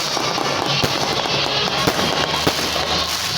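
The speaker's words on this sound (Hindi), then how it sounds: "मुल्क भर में चिराग और आतिशबाजी का शानदार मुजाहिरा।" Fireworks bursting during nationwide Independence Day celebrations in Pakistan, several sharp cracks and pops at irregular intervals over a dense, continuous crackling roar, with no voices.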